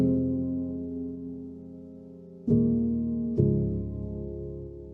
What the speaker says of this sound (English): That piano with all the effects sound like this